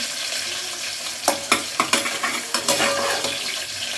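Bottle gourd pieces fry in a pan with green chili and garlic, giving a steady sizzle broken by several sharp scraping strokes of a spatula as the mix is stirred. No one speaks.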